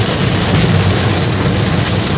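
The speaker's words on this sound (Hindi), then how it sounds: "भाई साहब क्या ही बारिश पड़ रही है सूरत में" Heavy monsoon rain pours steadily in Surat, a loud, dense, continuous wash of falling water with a low rumble underneath and no break or talk.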